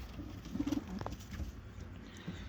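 Young tumbler pigeons cooing in a loft, a few soft low coos clustered near the start over steady background noise, fairly close and quiet.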